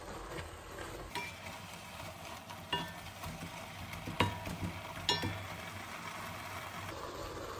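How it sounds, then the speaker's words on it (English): Spinach cooks uncovered in a pan over high heat, releasing liquid with a continuous sizzle and frying hiss, punctuated by a few sharp stirring clinks and scrapes. "Keep it going like this with a high heat and let your spinach evaporate."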